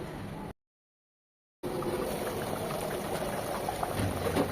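Beef and potato ghati curry simmers in a pot with a steady, bubbling hiss. The sound breaks off briefly near the start, then carries on continuously without any talk.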